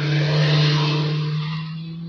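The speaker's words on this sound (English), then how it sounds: "There's a motorbike driving by." A motorbike passes by outdoors, a steady engine drone that swells and then slowly fades as it moves away, heard alone without talk.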